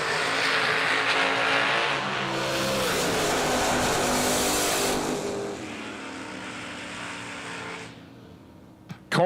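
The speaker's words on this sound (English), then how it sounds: "Miss Courtney Grisey coming hard in the blower machine" A supercharged drag racing car roars loudly down the strip at a motorsports event, a sustained close engine blare that fades away before a final sharp burst at the end.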